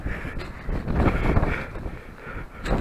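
Gusty wind buffets the microphone on Barsuk Mountain near Samara with a low, rumbling roar that rises and falls, with no voices heard.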